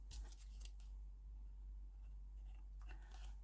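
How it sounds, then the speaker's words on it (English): Scissors snipping out a paper craft piece, a few faint close cutting clicks against a quiet background hum, with no talking. "So you're basically just cutting out one of these pieces here."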